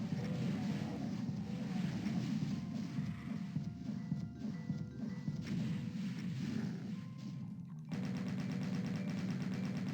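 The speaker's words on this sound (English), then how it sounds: "Just using chain gun." Rapid chain gun fire in a first-person shooter game, with dense overlapping mechanical bursts and low rumble at moderate level, ending in an abrupt shift to a steadier tone near the end; no speech.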